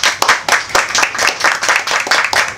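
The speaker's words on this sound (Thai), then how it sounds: "สำหรับคนที่มาชมที่นี่ขอเสียงปรบมือให้ร้านน้องนะครับ" Audience clapping at a live blues-rock show in a small bar in Tha Phra Chan, a steady run of close, sharp handclaps with no talk over it.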